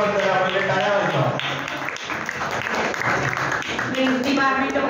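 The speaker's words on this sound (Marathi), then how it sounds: "पहिले टाळ्या वाजवा." Crowd clapping at a science club celebration of Albert Einstein's birthday, moderately loud and sustained, partly masked by a person speaking over the applause.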